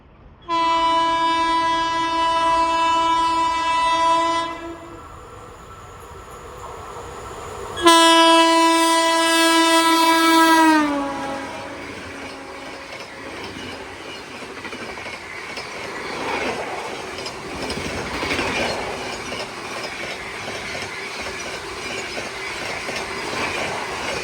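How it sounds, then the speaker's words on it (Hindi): An Amritsar–Mumbai Golden Temple Mail train passes at speed, around 130 km/h, its horn sounding loud in two long blasts before a sustained roar of wheels and carriages rushing by close at hand. "इसके बाद नंबर आया Amritsar Mumbai golden temple mail का, और वो आई और वो निकल गई"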